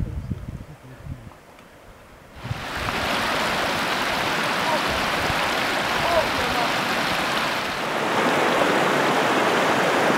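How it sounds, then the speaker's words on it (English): A flooded river rushes through a canyon beneath a bridge in Namibia, its dense roar swelling abruptly after a quieter start and then holding as a steady, loud wash of water. "With the river in flood, we stopped a bit at the bridge to enjoy the water in the canyon"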